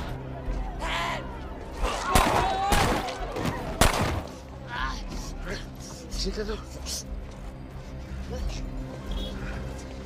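Gunfire from an action film scene about rescuing a mafia boss's child: a few sharp, loud shots burst out around the middle, amid crashing noise and steady background sound, with someone narrating over the scene.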